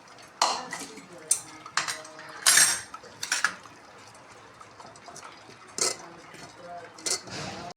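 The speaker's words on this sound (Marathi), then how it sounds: "अशा प्रकारे सगळे चिंच अशी गाळून घ्यायची चाळणीने." Cooked tamarind water being strained through a metal sieve with a ladle for pani puri, giving repeated clinks and scrapes of ladle against sieve in irregular bursts over faint liquid sloshing, close and moderately loud.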